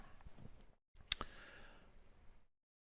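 A computer mouse clicks on a link, one crisp close click near the middle amid faint room noise.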